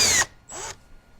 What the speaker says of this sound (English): I'm going to drill these out and fit that.